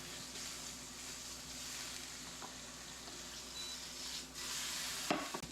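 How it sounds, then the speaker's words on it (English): Bacon frying in a pan gives a steady, close sizzle with dense crackle and a brief clatter near the end, and no talking over it. "our bacon's getting good"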